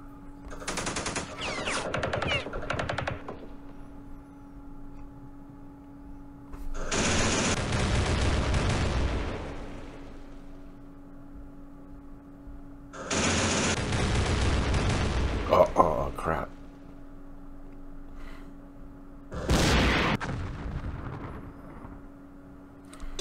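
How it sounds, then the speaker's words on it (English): Gunfire from anti-tank guns and recoilless rifles in a Middle East war strategy video game comes in four loud bursts of rattling fire and booms, separated by quieter gaps. "Freaking anti-tank guns and recoilless rifles."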